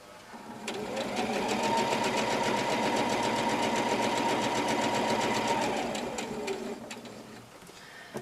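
A sewing machine runs steadily for about six seconds, its fast mechanical stitching loud and close as it sews down a patch pocket, then winds down and stops.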